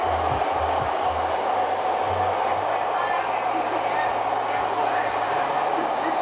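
A handheld hair dryer set to high heat and medium speed blows a loud, steady airy roar close up throughout, with a low hum underneath.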